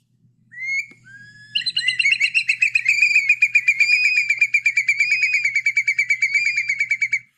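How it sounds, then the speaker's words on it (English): A curlew and a similar shorebird sing at the same moment, rising whistles building into a loud, rapid, bubbling trill of repeated notes, close and clear against a quiet background. "That was actually both birds singing at the same time."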